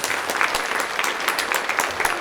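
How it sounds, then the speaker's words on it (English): A crowd applauds a retiring Catholic high school principal at a morning community breakfast, with a steady patter of many hands clapping, fairly close and even throughout. "so give him a big round of applause"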